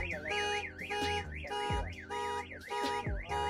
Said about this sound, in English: the little Viper alarm, and it's cool.